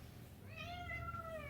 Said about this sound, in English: Here's my kitty.